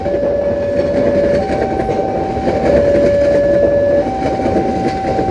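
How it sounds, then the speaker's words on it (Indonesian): The Doho Penataran economy passenger train rolls past close by, heading west to east, with a loud rumble and rhythmic clatter of wheels over rail joints and a sustained horn tone running through most of the passage. "Ini kereta api ekonomi Doho Penataran kalau nggak salah ya."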